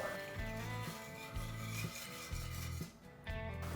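Spoon stirring milk and sugar in a wide pan, a rubbing, scraping rasp repeated in steady strokes, close and fairly quiet under background music.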